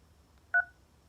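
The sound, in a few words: telephone keypad DTMF tones on automated banking menu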